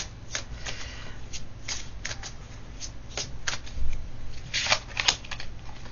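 Long oracle cards are shuffled by hand, a close run of papery riffles and flicks in uneven bursts over a low steady background hum.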